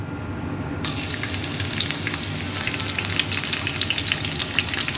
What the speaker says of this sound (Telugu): ఆయిల్లో ఫస్ట్ ఆనియన్స్ వేయాలి.